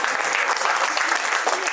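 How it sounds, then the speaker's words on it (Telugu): Audience applause at a church Christmas nativity drama put on by a Sunday school, steady dense clapping from a crowd filling the room, continuous throughout. "వీరికి గట్టిగా చప్పట్లు కొట్టండి."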